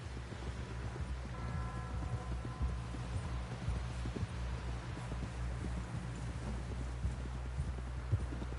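Steady hoof clip-clops patter along at a walking pace, mixed with wind rumble and a low droning hum throughout.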